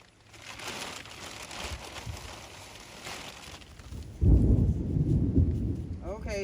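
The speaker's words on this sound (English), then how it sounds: "it has started to thunder" Thunder rolls low and heavy over a garden during tomato and pepper planting, building to a louder, deeper rumble partway through, with a faint hiss of rain in the background.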